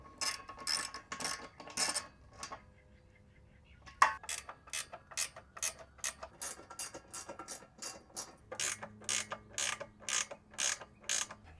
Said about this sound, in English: I'm gonna go back through and I'm gonna tighten the bottom bolts all the way